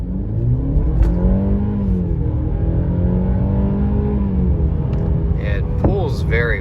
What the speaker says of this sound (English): Let's do a quick acceleration run here.